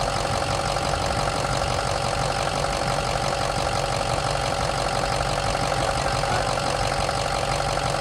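A vehicle engine idles steadily on its first start after a cold soak, a loud, even, close-up rumble with a constant mechanical clatter and no voices.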